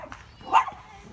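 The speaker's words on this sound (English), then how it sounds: "Stop barking." A single short dog bark pops out over faint background noise in a farm garden, close by and fairly sharp.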